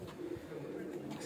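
Pigeons coo softly and steadily from a rooftop loft, a low continuous murmur lasting the whole moment with a faint hint of a voice in the background.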